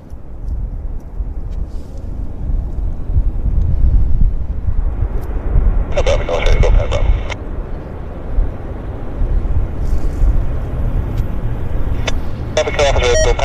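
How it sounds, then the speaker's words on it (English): A Q400 turboprop lands at Vancouver Airport at sunset. A steady broad engine roar rumbles through outdoor wind noise, fairly loud and sustained, and bursts of radio chatter come and go over it. "And we've got a Q400 landing here, guys."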